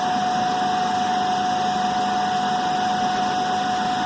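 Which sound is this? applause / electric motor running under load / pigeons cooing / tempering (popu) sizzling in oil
electric motor running under load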